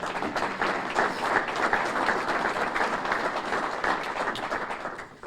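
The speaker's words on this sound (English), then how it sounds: "Give him a round of applause." Listeners at the Waterville mayor's State of the City address break into applause, a full, even patter of clapping that carries for several seconds before tapering off at the end.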